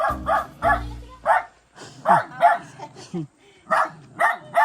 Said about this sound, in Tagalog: Tatapang naman ng aso.